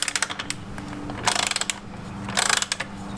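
A ratchet with an extension and hex driver tightens a bolt on a 2020 Kawasaki ZX-6R, giving two bursts of fast, close clicking. Lighter scattered mechanical ticks come before and between the bursts.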